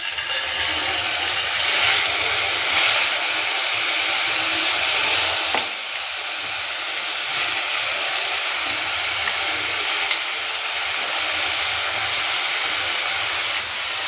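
Prawns fry over low-medium heat in hot mustard oil, giving a continuous broadband sizzle and hiss that holds steady throughout, with a brief clatter partway and no talking.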